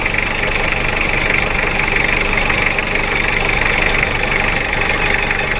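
A Mitsubishi Adventure's 4D56 diesel engine runs after a timing belt and rocker arm repair, idling loudly and steadily close by with a constant knocking rumble and no pauses.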